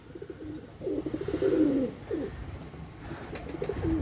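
A pair of Pakistani blue-tailed pigeons coo nearby, low throaty rolling calls repeated several times over a hum of background noise, with no speech.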